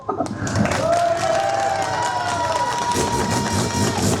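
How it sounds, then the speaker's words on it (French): Crowd applause at a rally event, a broad outdoor clapping and cheering swell with voices and a whistle-like tone drifting through it. "on l'applaudit également"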